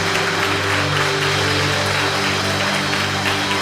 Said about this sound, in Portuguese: Vamos aplaudir bem forte o nosso Deus.